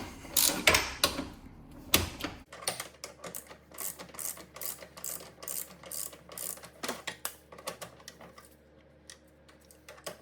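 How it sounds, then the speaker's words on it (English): Socket wrench working a bolt loose during an adjustable caster bushing install on a Porsche GT3RS, with a brisk series of metallic ratcheting clicks and clatters, close and moderately loud, with no one talking. "once it's broken loose, you can get a socket on there and start pulling that bolt out"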